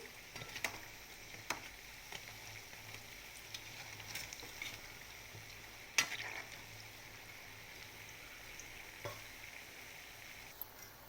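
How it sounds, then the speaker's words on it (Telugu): Batter-dipped poornalu dumplings frying in hot oil until brown, a faint, steady sizzle with occasional small pops and crackles. "ఇలా తోపులో ముంచుకొని బ్రౌన్గా వచ్చే వరకు వేపుకోవాలండి"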